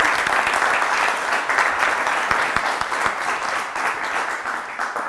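Steady, dense applause from a large studio audience on an Italian TV quiz show, continuous and fairly loud for several seconds without pause.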